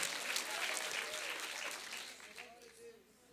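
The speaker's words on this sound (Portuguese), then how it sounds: "celebra Jesus com as suas palmas" Church congregation applauding during a Portuguese-language sermon, a dense wash of clapping that gradually fades, with voices and faint tones mixed in beneath.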